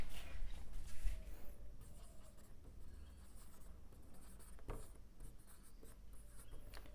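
Pen or marker writing out a maths equation, soft scratchy strokes in short bursts with brief pauses between them, close and quiet, with no talking.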